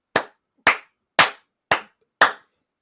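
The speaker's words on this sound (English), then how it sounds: "clap a little bit" Five sharp hand claps ring out at an even, unhurried pace, each crisp and close with a quick decay and silence between.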